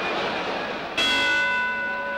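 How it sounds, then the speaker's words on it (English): A boxing ring bell rings once, sharp and bright, to end the first round of a Patterson versus Johansson heavyweight title fight, its metallic tone ringing on over steady crowd noise. "And there's the bell to end a sensational first round."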